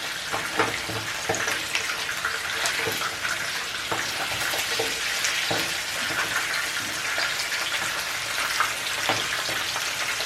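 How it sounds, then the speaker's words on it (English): Meat for jollof rice frying in a pan, giving a steady, dense sizzle and crackle that runs nonstop from start to end, with a few louder pops and occasional stirring, no voices. "now this meat is ready, and we're gonna fry it to give it a little color."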